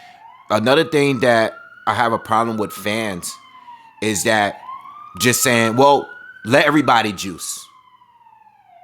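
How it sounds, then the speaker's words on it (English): An ambulance siren wails outside, a rising and falling tone running through the whole stretch while someone talks loudly over it in bursts. "sorry for the ambulance noise"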